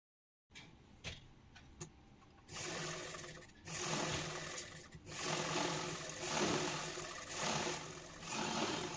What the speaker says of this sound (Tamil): இப்போ மேல் மாறாப்பு தைக்கிறதுக்கு இந்த மூணு பக்கத்தையும் ஓரம் அடித்து தைச்சிக்கலாம்